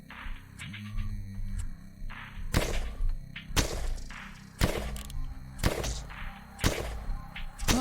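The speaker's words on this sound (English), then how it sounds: "Oh, shotgun's quite nice." Shotgun blasts in the horror bullet-heaven game Disfigure: about six heavy, booming shots spaced a second or so apart, each with a sharp crack and low thump, over a droning game soundtrack with pinging effects.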